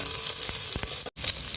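Shallots and coconut fry for Pallipalayam chicken with a dense, loud sizzle and a couple of soft stirring thumps. One brief cut interrupts the sizzle, and no one talks.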